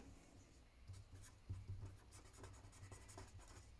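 Pen writing on paper while working a seventh-grade math exercise: quiet, close scratching strokes in irregular short bursts, soft and steady with no talking.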